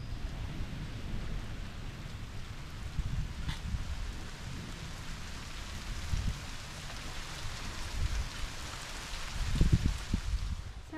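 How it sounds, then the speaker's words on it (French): Heavy rain pours steadily for the whole stretch, a dense, even wash of drops with low rumbling undertones swelling near the end. "Il pleut beaucoup, hein?"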